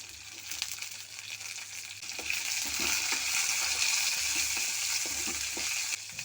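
Garlic sizzles with softened onions in a hot pan, a loud, steady crackling hiss that grows fuller after a few seconds, with occasional stirring knocks close by and no speech.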